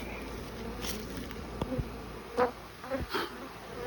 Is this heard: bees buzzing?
yes